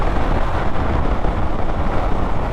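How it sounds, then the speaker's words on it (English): A Triumph Speed Triple RS 2019 naked motorcycle carries its rider at speed into a loud, roaring wind blast that buffets the microphone. The low rumble is continuous and close, with no talk. "God damn, that wind blast pushes you back a bit"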